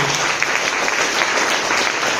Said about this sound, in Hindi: एक बार जोरदार तालियां हो जानी चाहिए